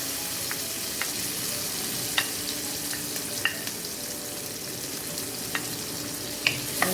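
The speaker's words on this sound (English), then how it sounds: "and then we'll just fry those in that fat from our sausage" Scallion, garlic and onion frying in rendered sausage fat for Southern fried cabbage, a dense steady sizzle close up, punctuated by light utensil taps and stirring clicks.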